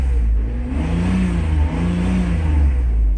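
Mercedes S600 V12 engine, under repair for mass air flow faults, revs up to about 3,000-4,000 RPM with a loud, steady, rising drone, close by and without talk.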